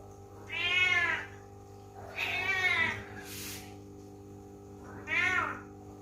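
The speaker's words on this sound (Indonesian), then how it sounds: "papi sudah mengeluarkan Kimi dari kandang, dan ketika Kimi berada di lantai atau mungkin kucing betina ketika sudah di luar kandang" A female cat meowing on the floor after being let out of its cage, three long, loud, drawn-out calls close by, separated by brief pauses, with a low hum underneath.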